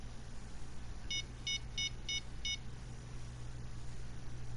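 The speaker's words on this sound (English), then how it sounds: "Why are you beeping?" Five evenly spaced electronic beeps in the fishing video game Fishing Planet, faint and regular over a low steady background hum, with no talking.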